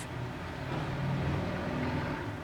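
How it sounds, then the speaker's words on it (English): Steady traffic noise from loud cars passing outside an open window, a continuous broad rumble with a slight swell in the middle, fairly close and with no voices over it. "loud cars, the window's open"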